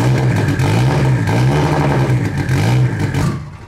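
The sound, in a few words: Nissan S15 drift car engine starting and revving loudly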